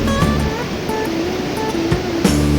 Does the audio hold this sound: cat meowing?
no